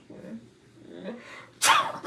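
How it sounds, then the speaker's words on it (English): A single sharp sneeze from a person bursts out loudly near the end, after a stretch of quiet background murmur. "want to sneeze"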